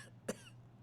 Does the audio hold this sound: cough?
yes